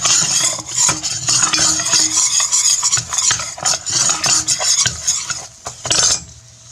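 A utensil stirs a thickening bechamel sauce made with heavy whipping cream in a pan, giving repeated scraping and clinking strokes in an uneven rhythm, close and fairly loud, with a light sizzle underneath and no talking.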